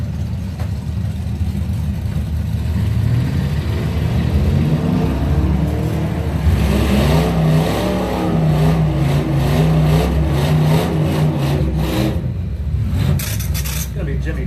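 Drag racing run between an 87 S10 and an 89 Camaro, with a loud sustained engine roar building and holding across the pass, rough revving and whine under a busy outdoor crowd, fading near the end.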